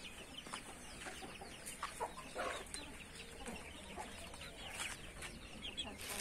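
Chickens and chicks on a farm give repeated clucks and short chirps at close to middling distance, scattered irregularly over steady low background noise with no talk.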